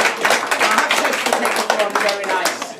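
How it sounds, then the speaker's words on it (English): An audience claps in a steady, dense round for Penny, a cake decorating tutor, at a community relaunch event. The applause stays fairly loud throughout, with voices mixed in. "Shall we give Penny a round of applause?"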